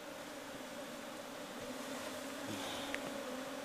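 A steady, dense buzzing of many Asian honey bees (Apis cerana) fills the air continuously, fairly soft and even, with no speech.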